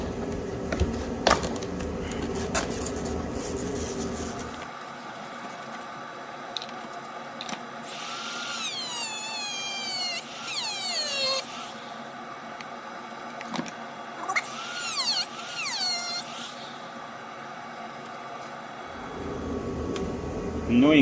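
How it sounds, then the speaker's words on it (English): Bolts being worked loose on an old Alfa Romeo GTA Sportwagon, with short bursts of power-tool whirring and ratcheting, interrupted by clicks and knocks and a long quieter stretch, fairly close. "I need to remove these two bolts first."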